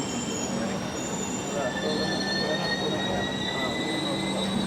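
Passenger train pulling away from a station in Kerala, with steady rail rumble and long high-pitched wheel squeals drawn out across the whole stretch, fairly close and continuous, with no talking.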